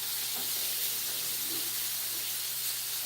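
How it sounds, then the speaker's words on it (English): A steady, faint hiss and crackle of food sizzling in a pan, continuous with no talking and a low hum beneath. "Hear that sizzling."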